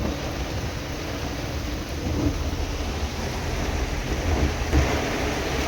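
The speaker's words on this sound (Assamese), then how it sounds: "এতিয়া বৰষুণ পৰি আছে" Steady hiss of heavy rain falling in Guwahati, with a low rumbling undertone and occasional soft thumps, constant throughout with no voices.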